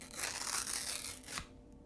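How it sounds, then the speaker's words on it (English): A playing card ripped apart by hand, one continuous close tearing burst of about a second and a half that cuts off sharply into near silence. "I said you need to be tearing more cards"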